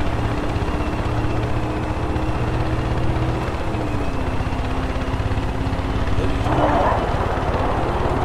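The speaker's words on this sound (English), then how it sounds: "Yeah, helicopter. Helicopter." A helicopter in the video game Far Cry 5 drones steadily throughout with a sustained engine hum, a brief louder swell near the end, while players talk over it.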